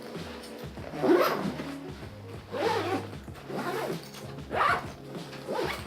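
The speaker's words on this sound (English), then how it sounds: "So I can just take this, zip these up, simply like that, and close it." A zipper is pulled several times in quick passes on a camera gear bag while it is packed with a Canon M50 and cleaning kit, each rasping stroke close and distinct with short pauses between.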